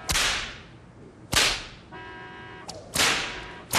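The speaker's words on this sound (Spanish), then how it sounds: "el viejito le daba latigazos al burro con unas cuerdas de ixtle" Sharp whip cracks lash out four times in uneven succession, each a loud broadband snap that fades quickly, with a brief tonal creak between strikes; the whip is made of ixtle fiber cords and strikes a donkey.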